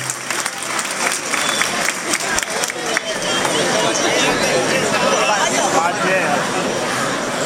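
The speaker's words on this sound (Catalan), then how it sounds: "Demane un fort aplaudiment per a Julián." An audience at a Foguera 2016 award ceremony applauds loudly in a dense, sustained burst of clapping that swells toward the end, with crowd chatter mixed in.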